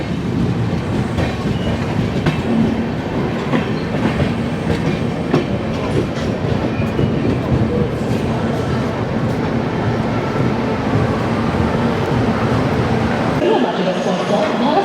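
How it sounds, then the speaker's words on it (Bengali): The 12882 Puri Shalimar Garib Rath Express rolls into Cuttack Junction, a loud, steady rumble of railcars with rhythmic clickety-clack of wheels passing close by, continuous throughout, with voices blending into the noise. "train number 12882 Puri Shalimar Garib Rath express 33 minute late বজায় রেখে এখন এসে পৌঁছে গেছে কটক জাংশন"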